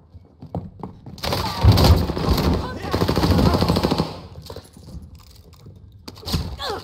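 Video game gunfire in Warzone Rebirth Island from an akimbo loadout, with loud bursts of rapid automatic fire and scattered single shots, close and clattering, while a player talks in German.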